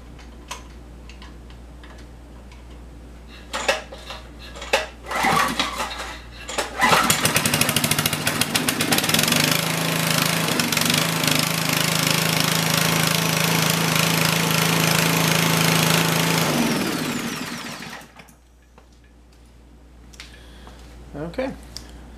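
A repaired portable generator, fixed with a new capacitor, starts and runs loudly for about ten seconds, powering an electric drill, then winds down; a voice speaks before it.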